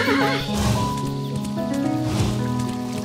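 Horse whinnying with galloping hoofbeats in the video game Kingdom, loud and up close over steady tonal game music, with no talking.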